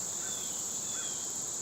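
Honey bees swarm around a hive during a hive inspection, giving a steady, unbroken insect drone with a thin high whine that holds level and close throughout, with no voices.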